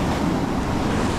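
Sea waves crash against the cliffs of Jorf Laaouar, an old port in Safi, Morocco, making a continuous, loud broadband roar mixed with gusting wind noise across the whole clip.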